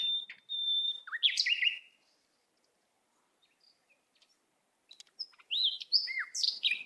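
Green warbler finch of the Galápagos giving several high, thin chirping calls in two bursts, with a steady whistled note at the start and a quiet gap between, close and clear with no talking.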